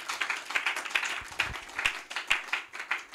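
Church congregation clapping and applauding, a steady wash of many hands with rhythmic peaks, fairly close and continuous throughout.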